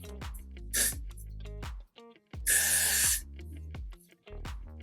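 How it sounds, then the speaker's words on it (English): Two bursts of Got2b hair spray hiss from an aerosol can, a short spritz followed by a longer spray, with music playing in the background. "I'm just gonna spray some Got to Be Free spray on my hair."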